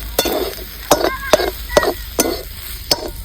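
Aghada greens get stirred in a hot pan, with a spatula striking the pan in sharp, regular scraping taps about every half second over a soft sizzle. The strokes sound close and clear, with no talking.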